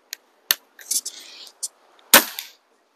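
A custom HW50S spring air rifle fires after a tar fix for spring buzz, giving a sharp, close crack followed by a short, clean mechanical tail with no lingering vibration, among a few lighter clicks and handling noises.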